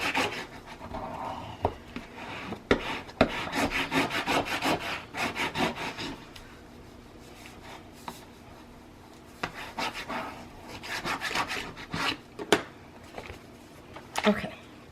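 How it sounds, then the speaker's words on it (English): Paper is burnished down onto a chipboard book cover with repeated rubbing strokes in quick bursts, close and fairly quiet, with a pause midway before more scraping passes. "But first, I'm going to burnish this down."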